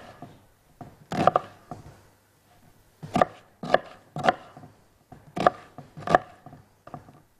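A knife chops an onion into large pieces on a board for a cauliflower stew, giving a series of sharp, close thuds in uneven bursts of two or three strikes with short pauses between.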